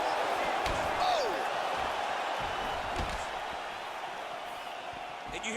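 Arena crowd at a UFC 190 fight reacting with a continuous loud roar as strikes land, swelling and fading slightly over several seconds.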